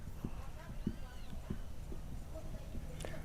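Horse hooves striking ground in a short gallop during a training session, a few spaced dull thuds at moderate distance, partly masked by steady background noise and talk.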